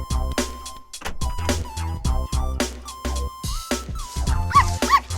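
A small cartoon dog yips, whimpers and barks in quick bursts over a steady tonal background, the sounds close and repeated throughout.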